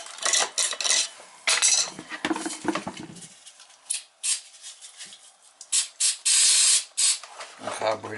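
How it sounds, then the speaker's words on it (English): Carburetor cleaner sprayed from an aerosol can onto a burner head of a hydronic heating boiler, several short and long hissing bursts separated by pauses, with metallic clinks in between. "Carburetor cleaner on there, I'll clean that shit right off of there."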